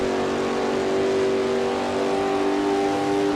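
Race cars, a Commodore and a Falcon, in Assetto Corsa, their engines droning loudly and steadily at high revs in top gear down a straight, a sustained close mechanical whine without pause.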